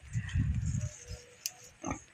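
A pregnant farm pig gives a run of low, close grunts, then goes quieter, with a couple of fainter snorts toward the end.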